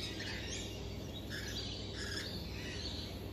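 Wild birds, shy and perched in a pair, call outdoors with soft chirps and squawks over steady wind and background noise, fairly distant.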